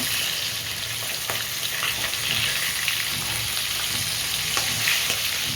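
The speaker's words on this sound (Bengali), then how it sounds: "লাল লাল করে সব মাথাগুলো ভেজে নিয়েছি।" Catla fish heads frying in hot oil give a steady, dense sizzle with scattered crackles and pops, loud and close throughout with no talking.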